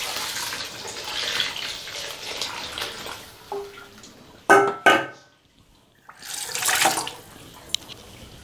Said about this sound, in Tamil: இதில் இன்னும் கொஞ்சம் நல்லா தண்ணியை மிக்ஸ் பண்ணி அதில் ஊற்றி விடுங்க.